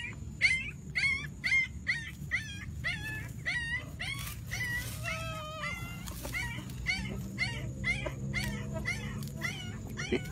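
Several rescued puppies that had been buried alive whimper and yip in quick, overlapping high-pitched cries, close by, continuing steadily over a low rumbling background.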